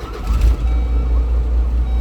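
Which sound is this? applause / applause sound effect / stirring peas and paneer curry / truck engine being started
truck engine being started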